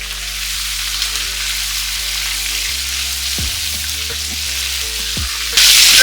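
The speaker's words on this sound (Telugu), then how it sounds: "ఇప్పుడు వీటిని మనం తిప్పుతూ కాసేపు వేయించుకోవాలి." Prawns fry in hot oil with a loud, continuous sizzle and a few stirring knocks against the pan. A low, steady hum runs underneath, and the hiss rises sharply near the end.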